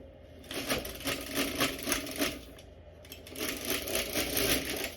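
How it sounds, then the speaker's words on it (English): The carriage of an LK150 knitting machine is pushed across the needle bed in two passes, producing a close, rhythmic rattling and clicking swish that pauses briefly between strokes. "Let's glide that all the way across. Bring out the end needles. Let's get our carriage."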